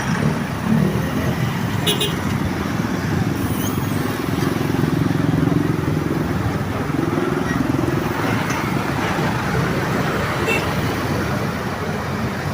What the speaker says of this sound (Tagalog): Kabila ang traffic.